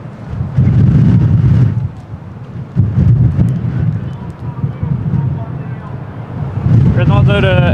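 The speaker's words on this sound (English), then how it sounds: "está mais vento do que ontem" Strong gusting wind buffeting the microphone at Lisbon Airport during plane spotting, loud low rumbling bursts that rise and fall, with someone speaking over part of it and aircraft radio chatter.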